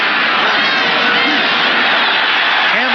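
Big crowd roaring and cheering in a football stadium during a 1982 NFL playoff game between the St. Louis Cardinals and Green Bay, a steady loud wall of noise with a commentator's voice faintly underneath.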